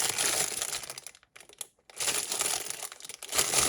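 Plastic packaging from art supplies crinkled close up in loud, dense, rustling bursts, broken by a brief near-silent pause before the crackling resumes.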